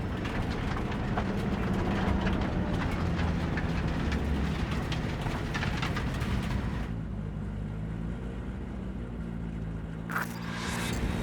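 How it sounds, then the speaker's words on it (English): A train rumbles past in Cyberpunk 2077, a loud continuous low roar with rattling that stays steady and close, then drops to a quieter rumble partway through, broken by a brief sharp hiss near the end. "maybe we should just hijack the train"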